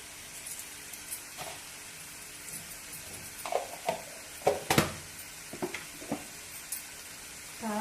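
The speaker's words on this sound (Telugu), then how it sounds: "వేగుతుంది కదండి" Stuffed eggplant curry frying in a pan, a low steady sizzle broken by several sharper scraping and clinking bursts from stirring, close and fairly quiet.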